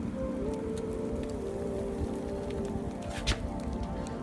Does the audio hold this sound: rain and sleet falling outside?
yes